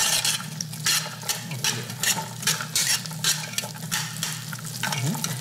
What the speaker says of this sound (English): we're going to cook the onion and celery